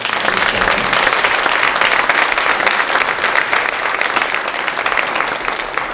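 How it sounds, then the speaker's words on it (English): A youth interfaith forum audience applauds its panelists, a loud, dense and sustained round of clapping that carries on steadily throughout without speech. "Please give them a round of applause."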